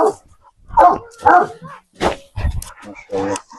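A Kopay dog barks and yips several times in short bursts close by, with brief gaps between the sounds.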